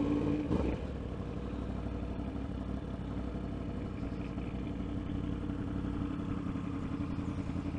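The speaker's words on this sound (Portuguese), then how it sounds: "Eu tô escutando o ronco da minha moto no retorno do teu microfone" A motorcycle engine roars steadily throughout, close and loud, a continuous mid-range drone with a brief sharper clatter near the start, heard while riding on a road ride with a Yamaha R1 and Kawasaki Ninja 1000.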